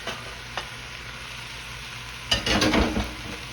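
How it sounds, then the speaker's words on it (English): Ground meat dropped into a hot pan for old school baked spaghetti, a faint sizzle at first, then a louder burst of frying and scraping around the middle that keeps crackling steadily near the pan. "Now, I'm gonna add my ground meat to this"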